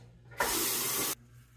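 Water from a tap runs in one loud, steady burst for under a second as a Schick Krona band razor and shaving gear are rinsed, then cuts off abruptly.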